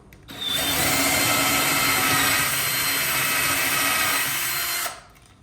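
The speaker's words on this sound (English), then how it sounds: "I'm gonna go directly in and just drill." A power drill whirs steadily for about four and a half seconds, loud and close, starting and stopping abruptly.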